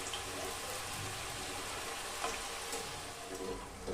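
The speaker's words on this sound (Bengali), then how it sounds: "আস্তে আস্তে করে খুন্তি করে নাড়বো। গ্যাসের ফ্লেমটা আমি কমিয়ে রাখলাম" Fenugreek-leaf nimki fry in hot oil over a lowered gas flame, a dense, continuous sizzle with faint scraping from a spatula stirring them slowly.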